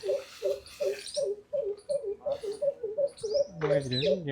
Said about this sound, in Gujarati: આ પક્ષી બોલે